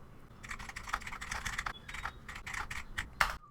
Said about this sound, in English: press and hold down the shift key and then start typing